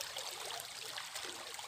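Irrigation water flows across a wheat field, a steady, faint, hissing rush of trickling water with no voices.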